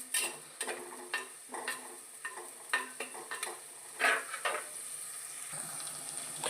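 Curry leaves crackle and sizzle in hot oil in a pan for fish curry, with soft repeated scrapes of a spoon stirring at a steady pace, fairly quiet and close.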